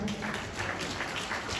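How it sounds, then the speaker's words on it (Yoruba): Audience applause at a club gathering welcoming members, a continuous wash of clapping from many people, moderately loud, with some room murmur and a faint voice underneath. "Eba mi pàtẹ́wọ́ dáadáa"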